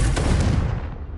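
A Confringo blasting curse goes off in Hogwarts Legacy as one loud, booming explosion, the heavy rumble filling the whole moment before fading slightly without any voice over it.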